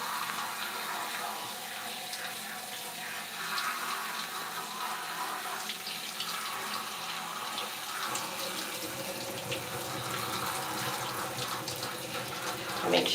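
Water spraying at high pressure to rinse a scalp and hair ends, a steady hissing rush of water that runs on continuously, close and even.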